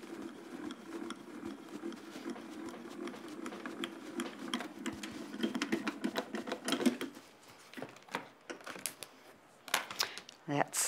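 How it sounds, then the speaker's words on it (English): A Grand Calibur die-cutting machine runs an A4 die-cut plate through for embossing, giving a steady mechanical whirr with fine rapid patter that gives way to scattered clicks and handling knocks. "I will run that through the machine. I'm using the Grand Caliber to do my embossing"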